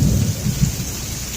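Heavy rain pours down during a thunderstorm in Sandy, a dense, continuous hiss with a deep low rumble underneath across a brief stretch.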